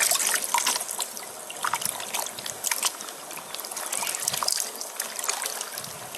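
Water trickles and dribbles out through small openings, a steady close-up splashing patter with brief louder spurts and no voices.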